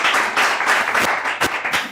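A live audience applauds on a Malian stage show, a dense, steady wash of clapping that swells and dips for the full stretch with no clear voice on top.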